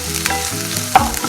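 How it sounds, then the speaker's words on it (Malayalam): Onions with ginger-garlic paste sautéing in a hot pan for a chicken puff filling, a steady close sizzle and crackle with a brief stir scrape, no voices. "ഇഞ്ചിയും വെളുത്തുള്ളിയൊക്കെ നന്നായിട്ട് വഴന്നിട്ടുണ്ട്"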